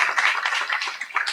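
A crowd at a live Spanish-language science talk event claps for another guest, a continuous mid-level wash of hands clapping that thins slightly near the end, with no talking on top.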